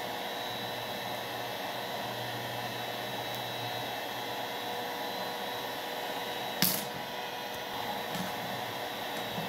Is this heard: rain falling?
no